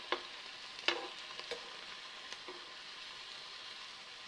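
Banana sweet cutlets fry in hot oil with a soft, continuous sizzle, broken by a few sharper pops and crackles near the start, fairly quiet and close with no talking.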